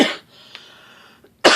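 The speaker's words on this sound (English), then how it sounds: "The cough always lasts the longest." A single harsh cough from a person who is sick, followed by a quiet pause and a second loud cough burst close to the microphone.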